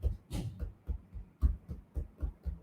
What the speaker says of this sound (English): Or even when I tap on the table,